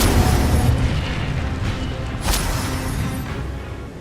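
Fiery spell burst from the Incendio charm in Hogwarts Legacy, a loud booming whoosh over a constant rumbling game backdrop, with a sharper crackling flare near the middle.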